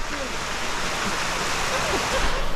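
Icy, near-frozen river in Iceland rushing steadily in a continuous broadband wash, close and moderately loud, with a brief faint voice or two underneath.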